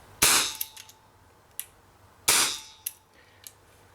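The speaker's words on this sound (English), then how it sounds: "Let's take some shots in double action using my middle finger." Two loud, sharp pops from a Borner 733 CO2 BB revolver fired in double action, about two seconds apart, each followed by faint mechanical clicks and clacks of the cylinder and action.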